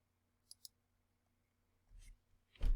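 Two quick, crisp computer mouse clicks sound in close succession near the microphone during Adobe Illustrator CC 2020 desktop work, then a short stretch of quiet is followed by soft rustling and a breathy, low thump. No one speaks.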